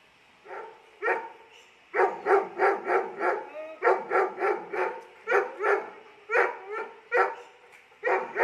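A Doberman and a Rottweiler bark loudly and repeatedly at close range, sharp barks arriving in quick rhythmic bursts with short pauses between volleys.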